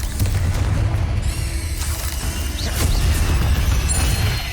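Booming spell blasts in the Hogwarts Legacy video game, a dense, loud barrage of crashing explosions rolling continuously with debris rumble and no break.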